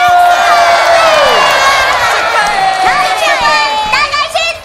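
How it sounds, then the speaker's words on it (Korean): Loud, continuous studio audience cheering at a children's TV show, dominated by excited children's shouts and high voices, rising and falling without a break. "콩콩조이에게 다시 한번 박수!"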